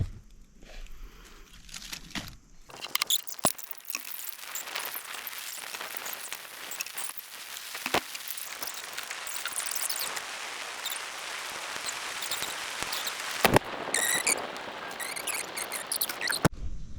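A small campfire crackles in a wooded summer campsite, a steady bed of soft pops and snaps heard close, with a few sharper cracks standing out and no voices over it.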